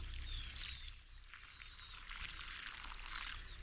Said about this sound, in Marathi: का इथं पाणी पडतंय